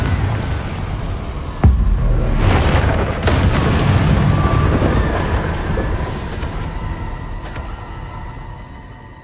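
A sudden deep boom from a Confringo spell explosion in Hogwarts Legacy, followed by a rumbling, crackling blast that rolls on and slowly fades over several seconds.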